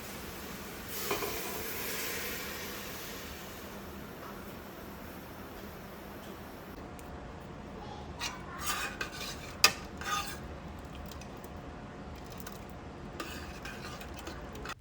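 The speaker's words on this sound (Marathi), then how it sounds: "आता पटकन याला सिंपल फोडणी देते." Onion, tomato, bottle gourd, chana dal and spices tempering in hot oil for dal: a steady close sizzle, with metal spoon scrapes and clinks against the pan in the second half.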